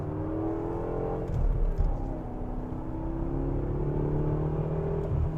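A 2014 BMW M6 coupe drives along a twisty back road, its engine note rising and falling through corners with a short surge of revving, heard from inside the car with no talking.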